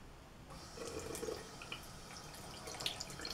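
Water from a tap splashes into a sink while hands are rinsed before soap. It is a quiet, uneven trickle with faint drips and small splashes.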